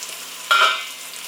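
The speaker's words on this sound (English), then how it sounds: "What we're going to do is give everything a gentle stir." A single brief stir of vegetables and potatoes for an omelette in a hot pan, a short scrape over a soft steady sizzle.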